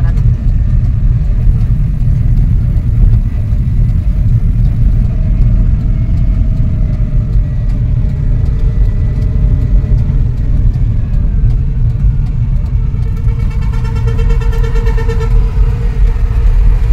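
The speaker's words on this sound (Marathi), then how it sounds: "धुक्यातनं कशी तरी गाडी बाहेर काढली आता व्यवस्थित." A car drives along a narrow hill road in light rain after clearing fog, with a steady loud engine drone and road rumble throughout and a brief rising engine note near the end.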